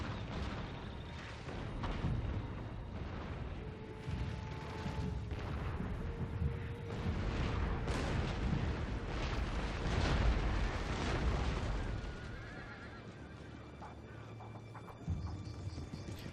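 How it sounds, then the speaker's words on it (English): Artillery shells explode across a battlefield in the video game Total War: Fall of the Samurai, a sustained rumble of overlapping booms and bursts with crackling airbursts, dense and heavy throughout with no clear talking. "well after the explosion of the shell itself, if it burst in the air"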